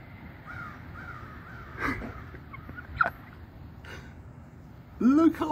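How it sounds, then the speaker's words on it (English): Huge flock of crows flying overhead, scattered caws overlapping against steady background noise, with a louder, nearer call toward the end. "Every crow in the entire state is now flying directly over my head."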